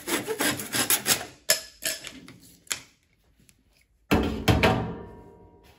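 A handsaw works through a wooden block by hand for a hollow box project, giving a run of rough rasping strokes, a brief pause, then a louder close burst of sawing; no voices.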